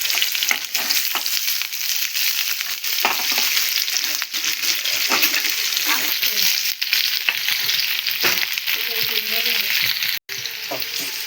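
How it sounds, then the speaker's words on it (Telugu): Garlic and green chillies crackling in hot oil in a pan for chicken majestic, a loud steady sizzle with occasional stirring clatter, close and continuous without talk. "ఆయిల్ అయితే హీట్ అయిపోయింది ఇప్పుడు వెల్లుల్లి వేస్తున్నాము నెక్స్ట్ అయితే పచ్చిమిర్చి"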